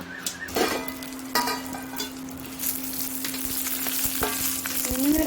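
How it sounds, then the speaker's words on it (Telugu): Coriander seeds and sesame seeds sizzle steadily in hot oil in a home kitchen, with a few clinks and stirring scrapes as they are added and moved about; no one speaks. "నూనెలో వేసామండి ధనియాలు కూడా వేద్దాం ఇప్పుడు ధనియాలు నువ్వులు నువ్వులు కూడా వేస్తున్నానండి"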